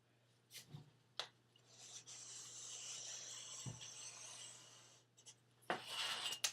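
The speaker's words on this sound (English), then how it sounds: "you're gonna go and trace with your straight edge, corner to corner on your paper" A pencil scratches steadily across paper while tracing along a straight edge from corner to corner, a soft continuous rub with a few quiet taps and knocks at the start and end.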